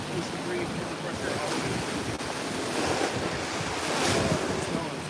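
Ocean waves break and wash continuously along a Cancun beach with seaweed piled on the shore, a steady sea breeze rumbling across the microphone, swelling slightly toward the end.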